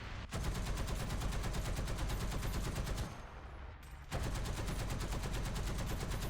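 A T77E1 self-propelled anti-aircraft vehicle in War Thunder fires its machine guns in long, steady rapid-fire bursts, loud and close, with a roughly one-second pause before firing resumes.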